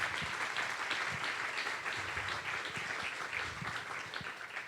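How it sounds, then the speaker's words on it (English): Symposium audience in Sitka gives a sustained round of applause for the speakers, even, moderately distant clapping from many hands continuing throughout with no talking. "I'd really like if we could give just another round of applause for the speakers yesterday, the speakers coming up today, and the speakers tomorrow"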